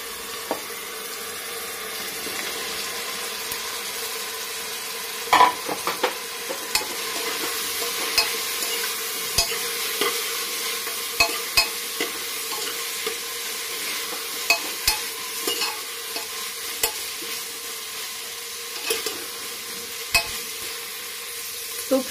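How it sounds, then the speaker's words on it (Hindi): Cauliflower fries in a pan and is stirred steadily, giving a continuous sizzle broken by frequent light scraping and clinking of the spoon, close and moderately loud, with no talk. "कम से कम 2 मिनट गोभी को भून लूंगी अच्छे से"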